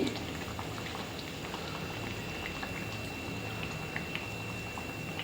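Garelu, lentil vadas, fry and puff in hot oil, giving a dense continuous sizzle dotted with small crackles and pops, close and even throughout with no talking.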